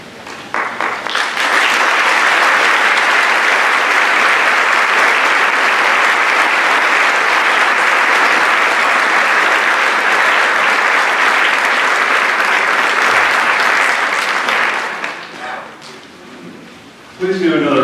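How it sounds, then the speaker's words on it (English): A large high school audience at a fall academic awards ceremony gives award recipients a long, dense round of applause that swells quickly, holds steady, then thins out near the end. "Please give another round of applause to our award recipients."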